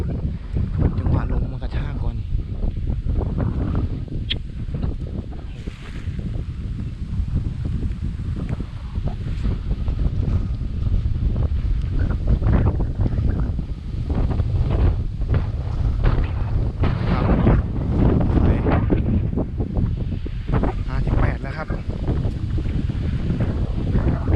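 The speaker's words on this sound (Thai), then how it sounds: "ลมมาแรงก่อนมันไม่ยอมขึ้นครับ ลมแรงเลย ลมอย่างแรงเลย" Strong wind buffets the microphone continuously while fishing for bass from a boat, a loud, steady roaring rush with gusty surges and some water noise throughout.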